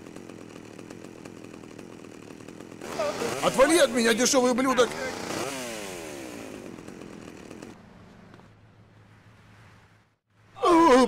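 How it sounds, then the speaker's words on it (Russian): Chainsaw revving in the GTA: Vice City mission Treacherous Swine, a loud buzzing burst of a few seconds that fades into a lower idle, with game characters talking over and around it. "Эй, у него бензопила."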